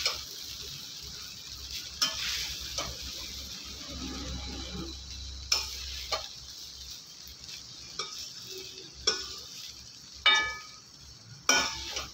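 A ladle stirs and scrapes butter garlic paneer fried rice in a pan under a soft sizzle, with sharp metallic knocks every second or two against the continuous frying.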